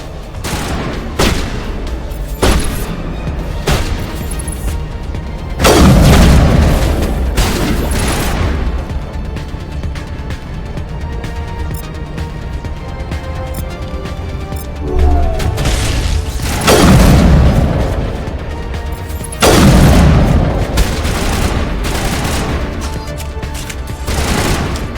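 Gunfire and explosions in the Mass Effect video game: rapid bursts of shots crackle throughout, broken by several heavy booming blasts, loud and close.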